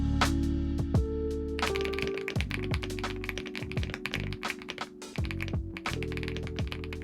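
Typing on an Epomaker TH99 Pro mechanical keyboard fitted with creamy Jade switches: a steady run of close, soft, rounded keystrokes in an uneven rhythm, some heavier thocks mixed in, with no talk.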